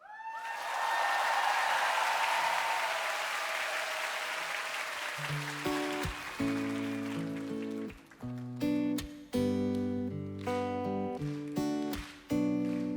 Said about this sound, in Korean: 여러분 박수 안 주셔도 돼요